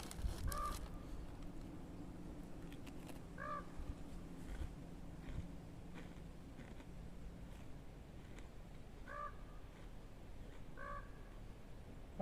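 A raven calls in an arboretum, four hoarse croaking caws spaced several seconds apart, fairly faint and distant over a low outdoor hum.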